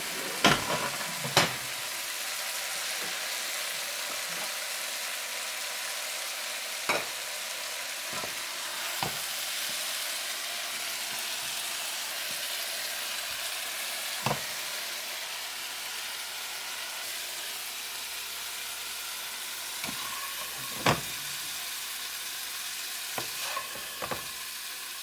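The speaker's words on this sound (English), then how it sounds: "this is stir-fry beef with green cabbage" Beef and green cabbage stir-frying in a pan, a steady close sizzle and crackle running throughout, broken by occasional sharp clinks and scrapes of a utensil stirring.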